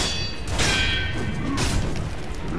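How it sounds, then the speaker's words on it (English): Sweeping strike from the mini boss Shikibu Toshikatsu Yamauchi in Sekiro, a loud whooshing swish followed by heavy crashing thuds, with a second swoosh near the end amid constant game noise. "so that was a sweep attack"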